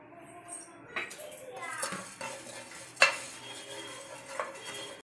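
Fennel seeds, cumin, cardamom and cloves are dry-roasted in a pan, giving quiet scraping stirs, light metallic clinks and a faint crackle, with a sharper knock partway through and soft voices in the background.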